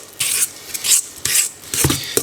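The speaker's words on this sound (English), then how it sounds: "I'm just going to mix this around until there is no dry flour left" Flour being stirred into a loose bread dough or thick batter in a bowl for Lithuanian sandwich bread, heard as several rhythmic scraping, rasping strokes in short bursts, close and fairly quiet.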